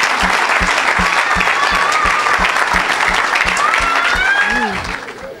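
A church congregation claps and cheers loudly for the Lord during an evangelist's service, with a steady rhythmic beat underneath and a voice speaking over the noise before it fades near the end.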